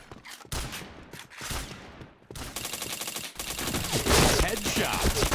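Rapid automatic gunfire in a mobile shooter game, bursts of dense rattling shots that break off briefly and then run on almost nonstop, growing louder toward the end.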